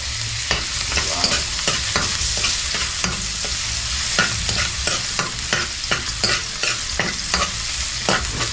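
Garlic sautés in a pan for caldereta, with loud, steady sizzling and frequent sharp scrapes and clacks of a utensil stirring against the metal, close by and with no voices.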